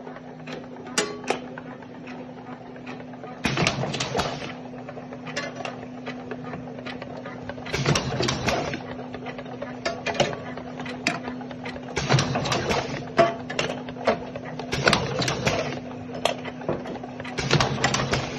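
An ST-530 automatic round bottle labeling machine, set for conic and cylindrical bottles, runs with a steady mechanical hum, broken by bursts of clattering at regular intervals of a few seconds.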